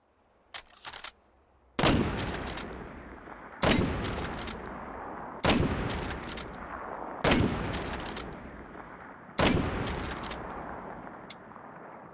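A bolt-action rifle in the VR game Hot Dogs, Horseshoes & Hand Grenades fires five loud, booming shots at slow, even intervals. Each shot rings out with a long decaying tail, and faint mechanical clicks of the bolt being worked come between the shots.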